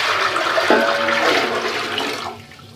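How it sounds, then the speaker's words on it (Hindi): Four kilograms of water pour from a container into a cooking pot for semolina halwa, a loud splashing gush that rises at the start, runs steadily, then tapers off near the end. "मैं पहले 4 किलो इसमें पानी डालूँगी।"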